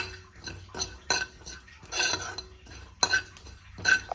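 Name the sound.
cumin seeds being roasted in a pan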